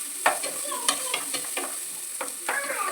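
Ground masala frying in a pan for egg curry, repeated sharp spatula scrapes and clinks over a gentle sizzle, close and busy.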